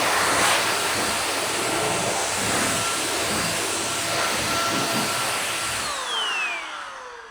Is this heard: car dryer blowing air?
yes